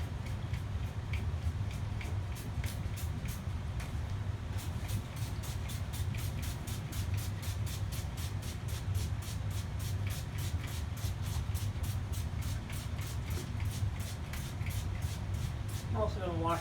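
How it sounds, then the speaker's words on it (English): A spray bottle sprays bleach onto a floor in steady hissing bursts repeating at an even rhythm, close by, over a constant low rumble of background noise. "just spray a little down just to make sure there's nothing"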